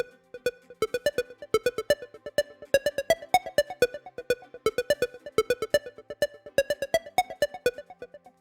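A plucked, repeating melodic phrase with echoing repeats trailing each note, steady rhythm, no voices.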